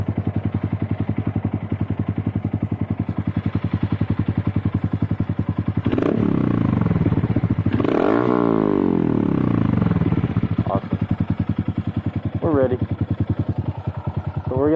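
A modded Honda Monkey motorcycle riding down a road, its small engine droning steadily and loudly up close, with revving swells and shifts mid-ride.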